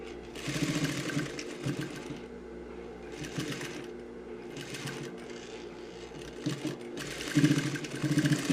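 A sewing machine stitches a trouser waistband closed, its motor whirring steadily and close throughout with brief surges and pauses between runs of stitching.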